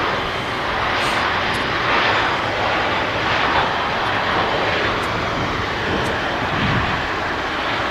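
An Airbus A321 arriving from Palma de Mallorca at Manchester Airport produces a steady, close jet engine roar that holds at an even level throughout, with no voices.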